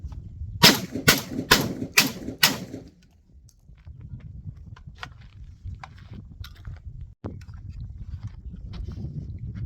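Five loud, sharp gunshots from a Tokarev TT12 pistol fired slowly at a range, evenly spaced in quick succession, followed by quieter range ambience with a few faint distant shots.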